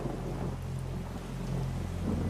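Rain falls heavily and steadily on the Amazon rainforest, a dense continuous hiss with a low rumble underneath, unbroken throughout and with no voices.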